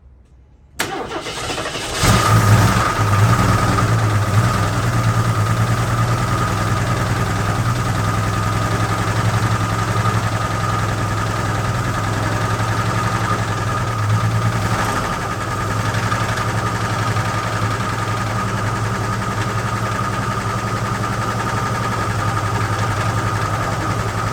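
An AMC Concord that sat parked for 26 years cranks over and catches, then settles into a steady, loud idle close by that runs without a break for the rest of the stretch, the engine note holding a low hum.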